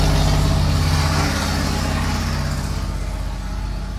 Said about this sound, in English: garbage truck just passed.